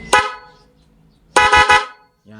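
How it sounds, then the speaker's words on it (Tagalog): A motorcycle's dual horn blares close and loud, first a short blast, then a longer stuttering burst of honks after a pause. "Yan pa rin yung dual horn natin."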